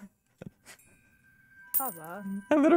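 Coins drop with a few short, bright clinks in the video game Terraria. Voices and game sounds take over soon after.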